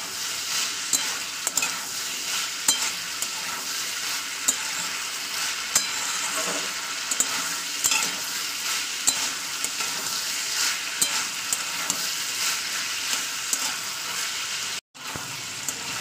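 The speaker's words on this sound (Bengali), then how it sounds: "প্রায় 5-7 মিনিট ধরে মশলাটা কষাবেন।" Spice masala cooking down in oil with beetroot, carrot and peas, a dense steady sizzle with small regular clicks of stirring running throughout, close up, briefly cut out near the end.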